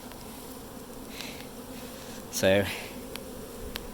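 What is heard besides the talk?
bee swarm buzzing around a hive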